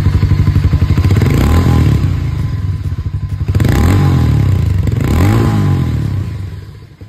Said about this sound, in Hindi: अगर मैं आप लोग को एग्जॉस्ट साउंड सुनवाऊं तो वो कुछ इस तरीके से सुनती है